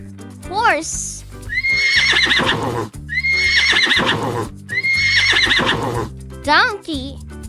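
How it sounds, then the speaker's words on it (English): A horse neighs three times in loud, shrill whinnies over a music bed, with a voice at the start and end. "Horse."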